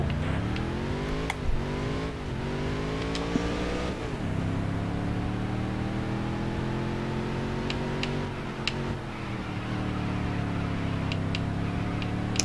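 Stock car engine in the NASCAR: Dirt to Daytona racing game, a steady high drone that climbs and dips with gear changes, with brief ticking clicks on top, running continuously with no talk.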